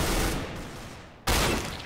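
Automatic gunfire in the Counter-Strike video game, two loud bursts of rapid shots that each ring out and fade, the second starting sharply about halfway through.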